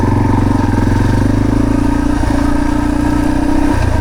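An off-road motorcycle engine holding a steady, even RPM on a forest ORV trail, a loud, close, continuous mid-pitched drone with no changes in pace.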